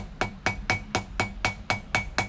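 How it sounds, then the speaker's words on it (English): Small ball peen hammer forging the point of a patch knife, ringing metallic blows struck about nine times in a steady quick rhythm, close and clear. "I'll switch over to my smaller hammer."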